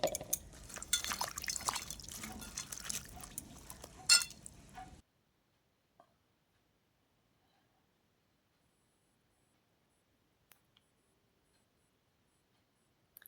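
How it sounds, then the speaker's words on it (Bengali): Cauliflower is washed by hand in a bowl of water, with splashing, sloshing and a few clinks for about five seconds, then near silence. "কয়েকবার এভাবে জল পাল্টিয়ে বেশ পরিষ্কার করে ধুয়ে"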